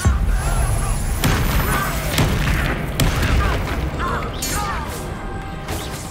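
A Confringo blasting spell explodes during a Hogwarts Legacy battle, a booming blast among loud crashes, clanking mechanisms and dense game sound effects.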